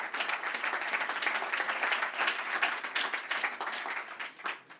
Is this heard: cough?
no